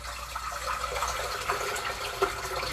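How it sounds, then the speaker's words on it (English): Water pours steadily into a container at a barbecue cooking setup, a continuous splashing rush close by with no talking. "we're going to pour our water."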